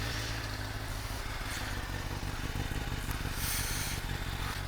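A 2007 Honda CBR600RR motorcycle engine idles with a steady, dense rumble and fine rapid clatter, close and continuous throughout, with no speech.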